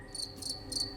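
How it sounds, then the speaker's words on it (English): Crickets in the forests of Papua's Lengguru Massif chirp in three short, bright bursts at an even pace, each pulse clear against a steady low background hum. "I'm specialized in the acoustic communication of crickets"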